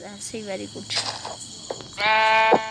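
A goat in the Minecraft video game gives a sharp, close bleat near the end, preceded by shorter bleat-like calls, while a player talks over the gameplay.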